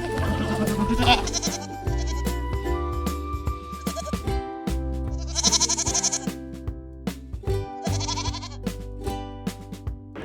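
A goat bleats in several wavering calls over a steady musical backing, set in a children's Urdu alphabet lesson for the letter Bay.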